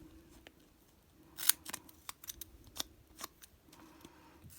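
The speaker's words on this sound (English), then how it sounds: "it's important when you're using scissors to be very careful" Scissors snip through paper while a pop-up card is being made, a string of sharp, close clicks and crisp cuts scattered irregularly over a quiet room background, with no talking.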